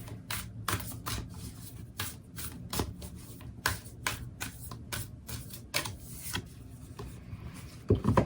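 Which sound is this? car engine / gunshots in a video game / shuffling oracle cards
shuffling oracle cards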